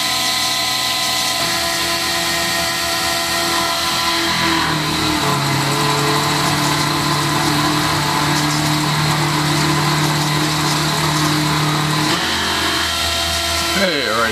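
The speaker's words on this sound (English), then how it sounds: "We'll try a 3/8 wide cut, 3/8 deep, turning 2500 RPM." Milling machine spindle turning at 2500 RPM while taking a 3/8 inch wide, 3/8 inch deep cut at 10 inches per minute feed, a steady mechanical drone with sustained tonal whine through most of the span, easing off near the end.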